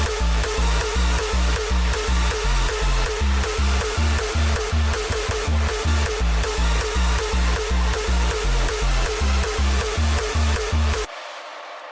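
Layered hardstyle synth leads over a pad play a loud, dense, rhythmic melody with a pounding low pulse, stopping abruptly near the end and leaving a faint tail.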